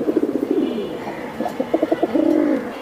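A pigeon close by gives a loud, clear run of rolling coos, several bursts of throaty warbling in quick succession with little else around.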